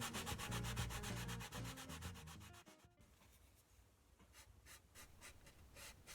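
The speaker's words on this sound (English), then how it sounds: "here I'm sanding the bottom of the bridge to match that profile." Close, steady back-and-forth rasp of sandpaper rubbing on the bottom of a wooden parlor guitar bridge, quick even strokes, then a brief pause and lighter, slower strokes.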